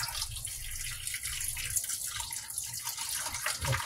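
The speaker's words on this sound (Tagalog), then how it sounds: "Dito sa loob ng tubig nyo kakaliskisan guys yung isda." Tap water runs steadily into a sink while a tilapia is scaled underwater, giving a continuous splashing, gurgling wash with faint scraping textures and no talk.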